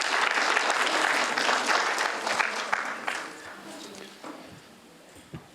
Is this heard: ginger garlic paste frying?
no